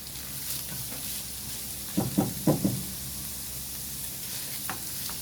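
Garlic hitting hot oil in a pan, a steady low sizzle with a quick cluster of loud knocks and stirring clatters in the middle and one fainter tap near the end.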